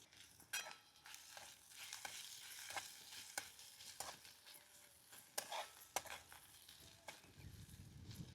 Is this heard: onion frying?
yes